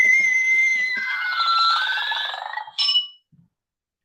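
A Disney Scream sipper canister lets out a loud, high electronic shriek for about two seconds after its button is pressed, preceded by a few faint clicks and ending abruptly.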